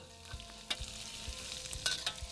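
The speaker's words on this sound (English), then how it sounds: "We're gonna toss about 2 cups of chopped gailan in. Give that a good stir." Chopped gailan hisses and crackles as it is stir-fried in oil rendered from Chinese sausage. A few stirring knocks sound close and fairly quiet over the continuous sizzle.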